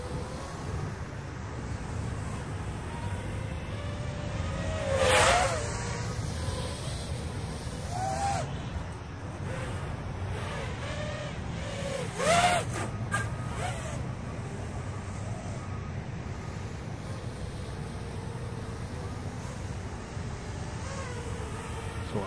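Steady whirring buzz of a Furibee X215 racing drone's motors in outdoor flight, a continuous hum that swells in a couple of louder throttle surges as it climbs, heard from a short distance.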